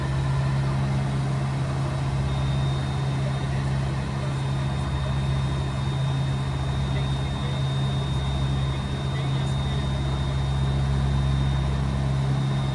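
Inside a Tecnam P2006T twin-engine airplane flying with one engine throttled back, a loud, steady low drone hums without a break, with a faint constant whine above it.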